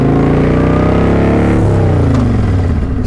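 A motorcycle engine revving close and loud as the rider works the clutch and shifts gears, its pitch climbing and then dropping off, with no speech.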